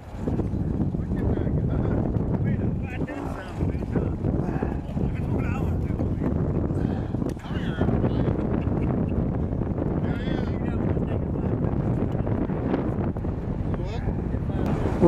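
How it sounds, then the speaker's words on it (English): Gusting wind buffets the microphone outdoors in a steady rumbling roar, with people talking over it throughout. "This little mild breeze we're having."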